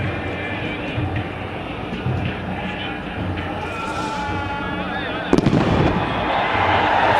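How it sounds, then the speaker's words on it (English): A firework bangs in a packed football stadium in Dammam during a Saudi Arabia v Australia World Cup qualifier, a sharp burst rising over steady crowd roar and commentary. "Firework has just landed on the pitch near Mark Schwartz's goal, which clearly gave the Australian goalkeeper a scare"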